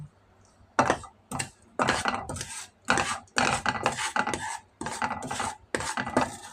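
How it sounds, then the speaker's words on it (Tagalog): Grated cassava being stirred together with other ingredients, probably sugar, in a bowl, giving a series of close, scraping and knocking strokes in irregular bursts with short pauses between them, with no voices. "ihalo na natin dito sa ating kasaba na nagagad"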